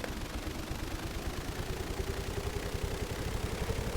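A boat's big engine in a video game, running as a steady, dense rumble with a low drone that rises slightly in pitch, loud and continuous with no talking over it.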